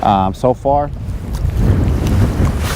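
Strong wind buffeting the microphone on a fishing pier over choppy water, a loud rumbling low roar that swells and persists after a man's brief words at the start.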